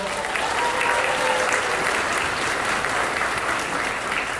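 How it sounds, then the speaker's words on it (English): An audience at a school winter concert gives steady, full applause to the percussionists, with many hands clapping continuously and scattered voices underneath. "Give them another round of applause."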